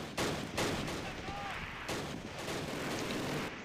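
Gunfire in the wartime strategy game Close Combat: Last Stand Arnhem, a dense run of overlapping shots and bursts, loud and steady throughout, with faint speech beneath.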